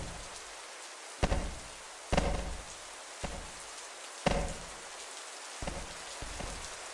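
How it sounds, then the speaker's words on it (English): Steady rain hisses on a surface, broken by several dull thumps at irregular intervals, like heavy drops or objects hitting nearby. "Oh, it's raining."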